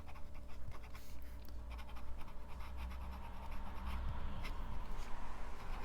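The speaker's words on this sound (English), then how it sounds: "So reverse writing, there we go, there's the flow." An extra fine nib on an LM Focus 3 fountain pen scratches faintly across paper while writing upside down, a soft steady rasp of short strokes close to the microphone under low background hiss.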